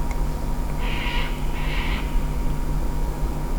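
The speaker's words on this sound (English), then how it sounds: "Do you hear those birds?" Two harsh calls from crows outside a house, each lasting roughly half a second with a short gap between them, heard faintly over a steady low hum.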